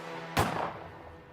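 A single sharp gunshot from a video game or rap track, a sudden loud crack that decays into a rumbling tail over about a second, with no talk.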